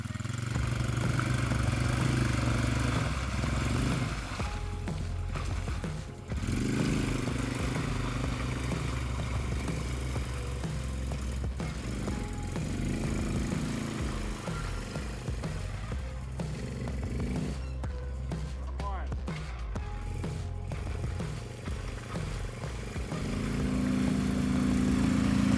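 A Scout 2x2 ATV motorbike runs off-road, its small engine droning steadily and close for the whole stretch, rising and falling slightly with throttle, with no talk.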